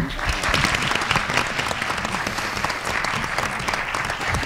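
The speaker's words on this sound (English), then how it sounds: "We'll give you one more round of applause." An audience at a school board meeting applauds, a sustained crowd of clapping hands with individual sharp claps poking through a thick, steady roar at moderate volume.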